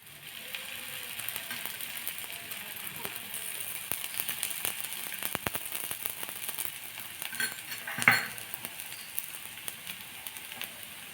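Semolina (rava) tiffin batter fries in a hot pan with a continuous soft sizzle and crackle and a brief louder spatter near the end, with no talking.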